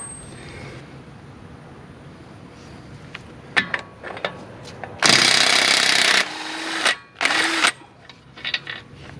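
Mastercraft drill fitted with a 1/2 inch impact adapter running on low speed, scattered clicks then two loud bursts of rattling hammering separated by a brief pause, close up.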